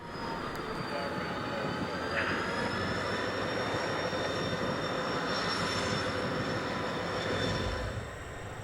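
A heavy, continuous rumble with faint high tones that rise and fade, like four GP35-3 diesel locomotives pulling a train at a moderate distance on the Carrollton branch line.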